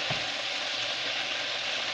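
Squid sizzles in a hot pan on a large stovetop burner, giving a steady, dense crackling hiss of frying oil that runs without a break and stays close and even throughout.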